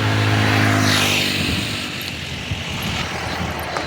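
An election campaign vehicle passes by outside, its loud engine roaring and droning close at first, then fading into a rumbling hiss.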